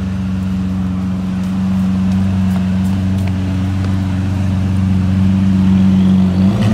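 A V12 supercar engine holds a loud, steady mechanical drone with strong low tones, rising slightly toward the end, with no talk.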